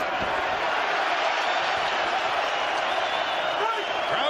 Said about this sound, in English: crowd comes alive as Barrera